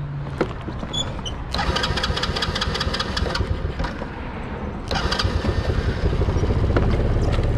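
A small vehicle is started with the brake pressed and a start button, giving a crank and then a steady mid-pitched engine hum that grows louder and carries on to the end, with no talk over it.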